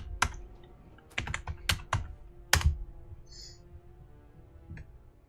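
Keys on a computer keyboard pressed in a quick burst as a password goes in, sharp close clicks in uneven clusters with short pauses, no talking.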